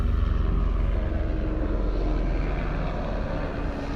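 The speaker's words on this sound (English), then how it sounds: "it's a helicopter. I thought it was a plane, and I was like, that's really small." A helicopter drones overhead, a loud, steady low rumble that continues throughout, fading only slightly toward the end.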